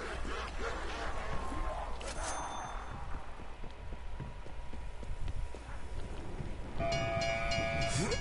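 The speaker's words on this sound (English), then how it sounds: "I hope you are smart enough to avoid being hit by a train." A train passes in the Call of Duty Zombies map Mauer der Toten: a loud rhythmic clatter of wheels rolls by with a rumbling undertone, and sustained horn-like tones rise near the end.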